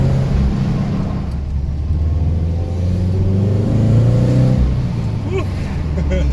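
A Subaru FRS engine fitted with a Tomei UEL header rumbles with low-end exhaust burble and brief revving. Casual talk runs over the engine throughout.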